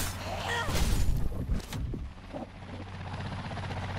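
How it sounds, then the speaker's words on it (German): A helicopter in the video game Dead Island 2 drones with a low, steady rotor thrum, joined by a burst of louder impacts early on that fades into a continuous hum. "Wo ist der Heli?"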